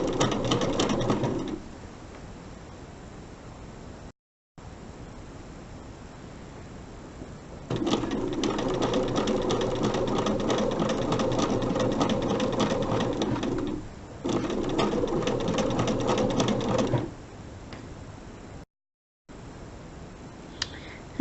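A sewing machine runs in steady bursts while stitching a quilt square, its close, even mechanical whir starting and stopping several times with brief pauses between runs.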